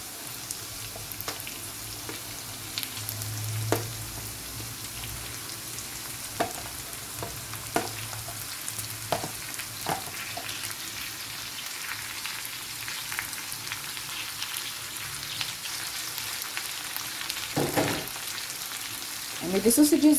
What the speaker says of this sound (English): And with the sausages in, we'll mix them together so that they can absorb the flavor and saute for a couple of minutes.